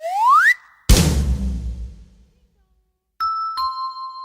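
A two-tone doorbell chime in an audiobook story, two clear bright tones at the end, preceded by a rising whistle and a loud whooshing crash that fades away.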